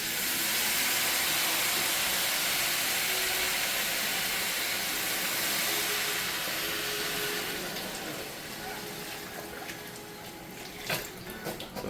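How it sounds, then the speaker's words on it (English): A whole 32-ounce container of vegetable broth pours into a pan of toasting orzo for a spicy pepper dish, giving a loud, steady broadband hiss and sizzle that eases slightly toward the end, with no talking. "at this point, we're going in with a container of vegetable broth"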